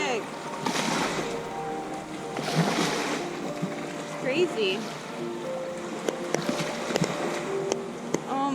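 A sailboat under way on the open ocean, with a continuous wash of water and waves and some wind noise, close and moderately loud, while people talk over it.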